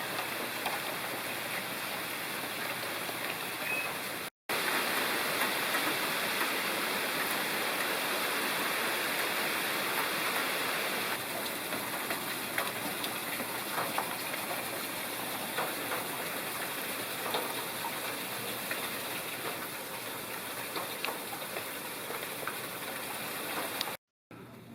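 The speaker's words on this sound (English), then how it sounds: "on our last day here, full day, Sunday, we're having rain" Steady rain falls on Kiawah Island, a continuous broadband hiss of drops on surfaces that fills the whole stretch, briefly cutting out twice, with no talk over it.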